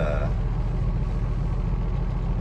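A semi truck's engine idles at a truck stop, producing a constant low rumbling drone close by, with a voice faintly over it at the start.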